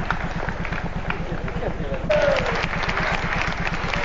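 Applause from technical staff and onlookers greets a female competitor at a 1995 triple Ironman triathlon in Le Fontanil, rising suddenly partway through under a rhythmic pounding background and continuous speech.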